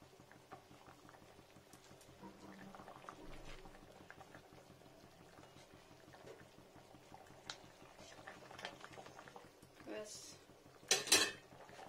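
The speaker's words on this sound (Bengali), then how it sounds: "একটা দুটো আলু একটু ম্যাশ করে দেবো ফ্রেন্ডস, ঝোলটা একটু ঘন হবে।" Potatoes being mashed against a pot of simmering fish egg curry, with soft scraping and knocking taps of a utensil on the pot over a faint bubbling, quiet and close, ending in a louder clatter.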